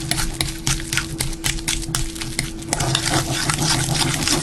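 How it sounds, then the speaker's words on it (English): Mashed hard-boiled egg yolks mixed with a utensil in a bowl for deviled eggs, producing rhythmic scraping, tapping strokes at close range, loud and repeated, with no talk. "you want to put a little bit at a time and then mix it up, because the egg yolks are quite a binder"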